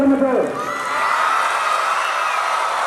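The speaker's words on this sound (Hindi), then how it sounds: "ताली बजाओ और से अपने लिए शोर मचाओ।" Students at a school Independence Day assembly clap and cheer together in a loud, sustained crowd roar, with shrill whoops rising above steady applause throughout.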